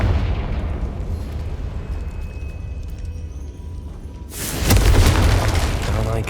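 In the Hogwarts Legacy video game, a Confringo fire spell goes off with a sudden loud booming explosion partway through, following a low rumbling game ambience.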